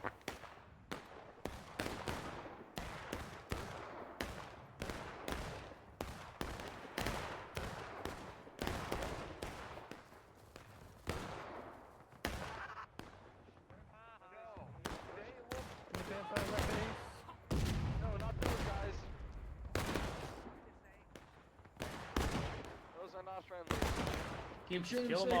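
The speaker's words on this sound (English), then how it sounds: "Keep shooting. Kill them all. Kill them all, boys." Gunfire in the War of Brothers video game: many sharp musket and rifle shots cracking in irregular volleys throughout, some near and loud, others further off, with voices mixed in.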